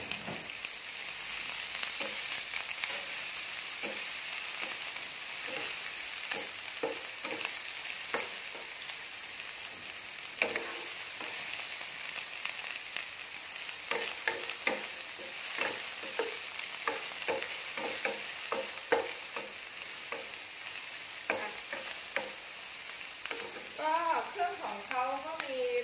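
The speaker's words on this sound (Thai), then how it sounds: "โปรตีนเกษตรใส่ลงไปค่ะไปคั่วนิดนึงก่อนพร้อมๆกับหมูกันเลย" Textured soy protein stir-fried with pork in a pan for vegetarian glass-noodle stir-fry, a steady close sizzle under repeated scraping stirs, with faint voices toward the end.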